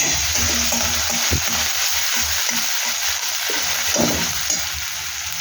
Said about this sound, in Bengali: এই রসুনগুলোকে ফ্রাই করে নেব